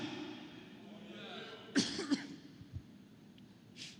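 Two quick throaty coughs close to the mic, one right after the other, followed by quiet room tone.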